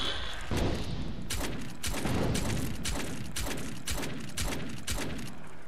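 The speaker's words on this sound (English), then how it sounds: "Using a semi-auto rifle." A semi-auto rifle fires in the video game ChaosNova, a steady string of about ten sharp, loud shots at a measured, even pace over continuous game ambience.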